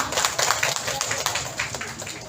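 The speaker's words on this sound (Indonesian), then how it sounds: "Tepuk tangan dong untuk kita semua." An audience at a community health session on stunting prevention claps together, a dense, steady patter of many hands filling the room and fairly close, with faint murmuring beneath.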